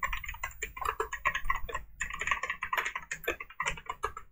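Fast, continuous clicking of computer keyboard keys while C++ code is typed, close and clear, with short irregular pauses between bursts of keystrokes.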